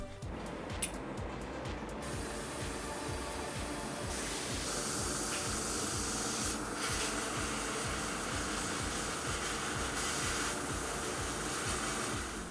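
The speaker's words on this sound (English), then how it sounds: "Now I'm going to spray white." White paint sprayed onto a Frame Arms Girl model kit, a steady close hiss in long bursts with short pauses between, over a faint rhythmic mechanical whir throughout, with no talking.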